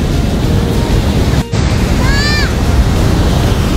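Steady ocean surf on a crowded beach rolls as a loud, continuous wash of noise with wind buffeting the microphone, and a brief bird-like chirp rises in the middle.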